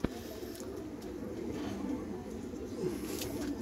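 Madrasi pigeons cooing: low, soft, rolling coos, faint beneath a steady murmur of background noise.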